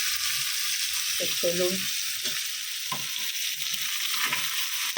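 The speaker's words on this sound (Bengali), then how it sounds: "আমি পেঁয়াজটা লাল লাল করে ভেজে নিই" Onions fry in a pan until reddish-brown, giving a steady, loud sizzle throughout, with a few stirring clatters and a brief spoken word.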